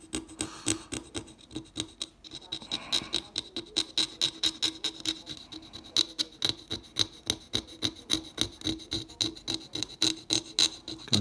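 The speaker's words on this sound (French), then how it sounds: "On entend le bruit. En fait ça fait ripper le cure-dent" A wooden toothpick scrapes over the surface of a Napoleon III 5 centime coin being restored, making quick rhythmic rasping strokes that repeat steadily, close and alone.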